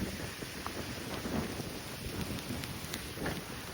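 Steady rain and gusting wind during a storm over farmland make a continuous broadband hiss with low rumbling, with light patter and occasional sharper drops, no talking.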